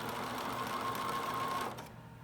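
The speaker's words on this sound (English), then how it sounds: "we're showing a lot of auto pivot here as we complete the sewing applique" A sewing machine stitches applique with auto pivot, running steadily with a close, even whir before stopping near the end.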